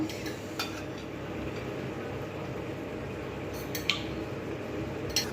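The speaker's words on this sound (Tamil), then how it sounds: "கர்டு ஊற்றி இப்போ நல்லா மிக்ஸ் பண்ணி அதுக்கப்புறம் ரைஸ் போடலாம்" Spoon scraping and clinking against a bowl while curd is stirred for curd rice, a steady soft mixing sound with a few brighter metallic taps, close and alone.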